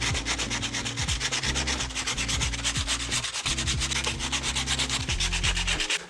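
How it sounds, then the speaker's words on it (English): Sandpaper rubs briskly over two pieces of wood being tidied for an armour build, making a close, continuous rasping scratch in quick back-and-forth strokes with a brief pause midway and no talking. "So I'm gonna grab some sandpaper, give it a good old"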